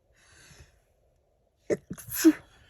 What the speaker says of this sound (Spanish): Perdonen, estornudé